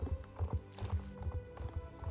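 Horse hooves clip-clop in a steady, even rhythm in the online horse-riding game Star Stable, loud and close, with a brief whinny-like tone partway through and no talk.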